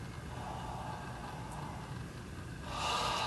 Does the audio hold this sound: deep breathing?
yes